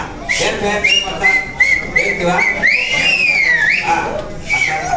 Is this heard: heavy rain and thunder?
no